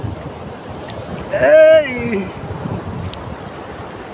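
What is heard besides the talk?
wind blowing by the sea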